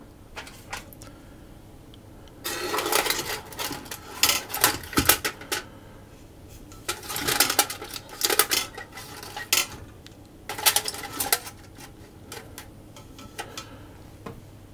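Ceramic ramekins set down on a metal trivet inside a pot for crème caramel, bursts of clinking and rattling in several clusters, close and fairly loud, separated by quieter pauses.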